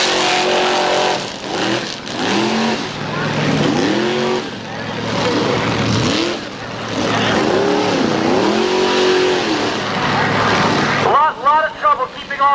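A mud run race vehicle at the Cornstock 500 mud run roars loudly at full throttle, its engine note rising and falling through repeated revving surges close by, with commentators talking over it throughout.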